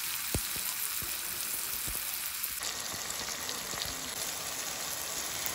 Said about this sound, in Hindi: अभी यहाँ मैंने प्याज अदरक लहसुन पूरा डाल दिया और इसको अच्छे से थोड़ा ब्राउन होने दो